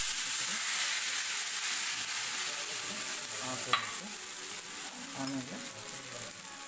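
Rava dosa batter sizzles and hisses steadily on a hot pan, a dense close frying crackle throughout with a brief clink partway and a short word of speech.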